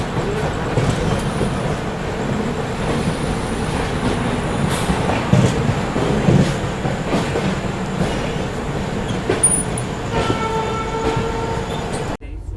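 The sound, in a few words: Patna–New Delhi Tejas Rajdhani Express train arriving at DDU station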